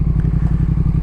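A Speed Twin motorcycle with a TEC aftermarket exhaust idles with a deep, rumbling exhaust, steady low pulses loping along close by.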